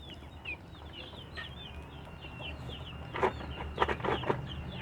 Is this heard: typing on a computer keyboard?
no